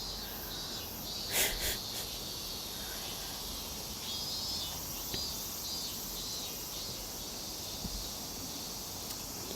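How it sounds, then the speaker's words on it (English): Loud, steady cicada chorus by the Arakawa River in Tokyo, with a continuous high buzzing drone that persists throughout, plus a brief louder burst early on. "but the cicadas are quite noisy."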